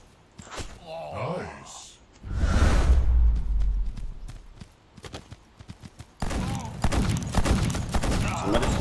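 Fortuna machine gun in the mobile shooter Guns of Boom, sustained rapid bursts of automatic fire with whooshes and impacts, mixed with game effects and voices talking over the action.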